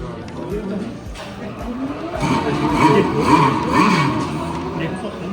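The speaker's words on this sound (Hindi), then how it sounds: "सर अभी हम जो है ना पोर्शे का इंजन स्टार्ट करने लगे" Porsche engine at a museum display in Stuttgart revving after being started, a rising and falling engine roar that builds in the second half, with people talking throughout.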